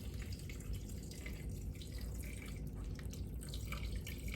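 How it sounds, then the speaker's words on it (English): Water runs steadily from a tap into a cooking pot of meat, a continuous splashing stream close by with no talking. "we're gonna add some water and add just enough to cover the meat"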